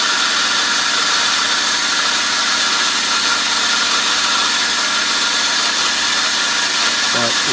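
A factory-built pump set runs steadily at 4 bar, giving a loud, constant motor-and-pump drone with a broadband hiss that never changes.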